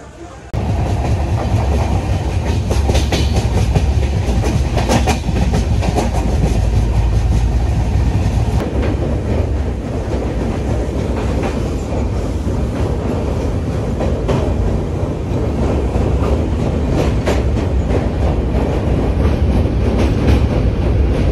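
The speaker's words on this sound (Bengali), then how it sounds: "তো কিষানগঞ্জ আমাদের ছেড়ে দিয়েছে ট্রেন।" A Darjeeling to Kolkata passenger train running on rails after leaving Kishanganj, a loud continuous interior rumble with rhythmic clickety-clack of wheels over rail joints throughout.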